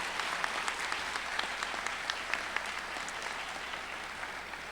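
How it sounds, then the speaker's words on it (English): Crowd at a pharmacy college white coat ceremony applauding in a large hall, a dense, even roar of clapping with occasional sharper close claps, sustained throughout. "If you could give them a round of applause,"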